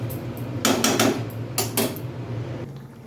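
A lid set onto a pot of prawns with Malabar spinach, a few short metallic clanks and rattles close by over a low simmering hum, no talking.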